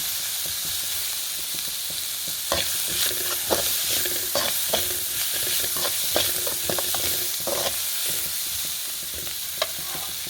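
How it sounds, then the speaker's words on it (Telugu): Mutton frying on high heat in a kadai, a loud continuous sizzle close by, with frequent scraping and clacking from stirring the pan throughout. "ఇలా వేసుకుని ఫ్రై చేసుకోవాలి ఇప్పుడు కొంచెం హైలో పెట్టుకొని ఇలా"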